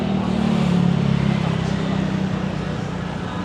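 A car moving along Beach Road in Pattaya at night, a steady engine drone close by that holds fairly even through the moment, mixed with street noise and some voices.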